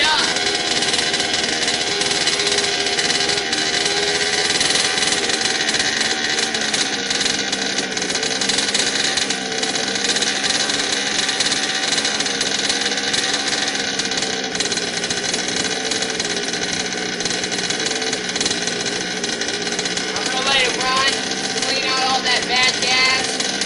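A gas-powered HPI Baja 5T RC car engine, freshly built and tuned with a lowered idle, runs continuously at close range, a loud, steady, buzzing two-stroke drone that holds at a constant pitch for the whole stretch.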